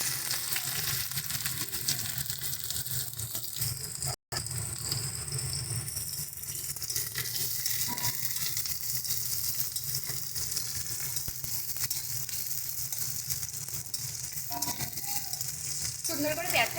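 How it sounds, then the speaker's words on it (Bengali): Sliced onions fry in hot oil in a wok for a spicy fish curry, a steady close sizzling hiss that runs without a break except for one sharp momentary cut. "সুন্দর করে পেঁয়াজটাকে ভেজে দেবো।"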